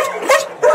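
Two stray dogs brought in off the street with their puppies give short whimpering yelps and a soft bark, three quick close bursts, loud and without voices.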